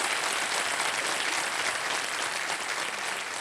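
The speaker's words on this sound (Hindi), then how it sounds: "एक बार फिर तालियों के साथ इनका अभिनंदन और स्वागत" A studio audience at a television quiz show applauds in a dense, steady wash of many hands clapping, even and sustained throughout with no voices on top.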